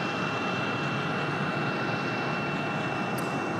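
An aircraft cleared for takeoff at Raleigh-Durham airport gives a continuous broadband jet engine roar, steady and fairly loud throughout, with no voices.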